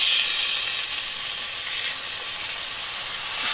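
Yogurt katla fish curry sizzles steadily in a pan over a gas flame, a close, continuous bright hiss of frying oil with faint stirring, no voices.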